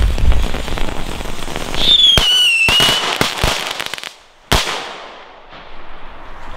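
Crackling fireworks go off outdoors in a rapid spatter of pops and fizzing crackles, with a rising whistle, several sharp loud bangs, then fading crackle tails.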